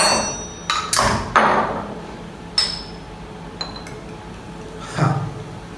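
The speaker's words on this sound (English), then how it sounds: "Give it a quick stir." Spoon stirring a Jameson whiskey cocktail with black tea in a glass before ginger beer is added; several sharp clinks against the glass at irregular intervals, fairly close, with no talk.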